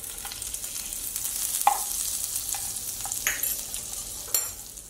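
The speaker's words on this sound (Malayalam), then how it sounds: "ഞാനിവിടെ ഇതേ പാത്രത്തിലേക്ക് കുറച്ചുകൂടെ ബട്ടർ ഇട്ട് കൊടുക്കുന്നുണ്ട്" Butter sizzles and fries in a hot pan for a bread omelette, a steady close crackling hiss with several sharper clinks and scrapes of stirring scattered throughout.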